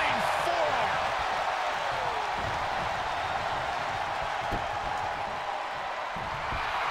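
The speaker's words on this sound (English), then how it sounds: "The sound of this crowd is deafening, and he's asking for more." A wrestling arena crowd roars during a one-on-one match, a dense, loud and unbroken wash of cheering that fills the whole stretch, with commentary talk running underneath.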